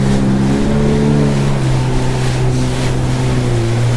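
Yamaha WaveRunner personal watercraft riding on open water near a beach, its engine droning loud and close with shifting pitch over wind and splashing water.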